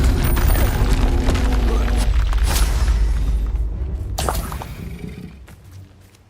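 A Confringo fire spell explodes in Hogwarts Legacy, a loud booming blast with a heavy low rumble that fades out over several seconds, mixed with dense game effects.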